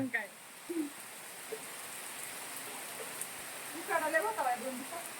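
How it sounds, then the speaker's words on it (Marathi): Steady rain hisses evenly throughout, with a few faint voices and a brief sing-song voice rising over the downpour near the end. "उकाडा असल्यामुळे पाऊस चालू झाला"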